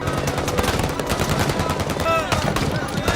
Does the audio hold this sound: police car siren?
no